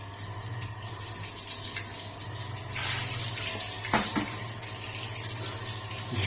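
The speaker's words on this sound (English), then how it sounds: "reactive terrain has a waterfall" Water pours down a DIY waterfall on a mini crawler course built with hundreds of liters of water, a steady close splashing rush over a low constant hum, with no talk.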